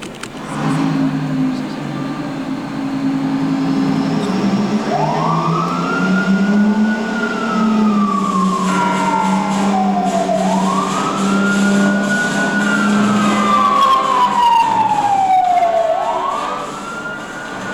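A fire engine siren on the 1992 Universal Studios Hollywood tour wails in long rising and falling sweeps, loud and continuous over a steady low engine rumble.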